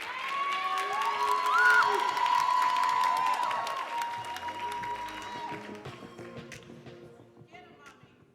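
Audience applause and cheering at a youth voter poetry slam finals, a sustained crowd roar with shouts that swells early, then gradually thins and fades toward the end.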